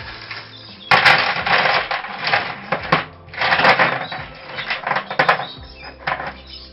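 Screws and bolts tipped out of a bag onto a surface for assembling a paper pot planter, a jumbled clatter of small metal pieces tumbling and rattling in several bursts.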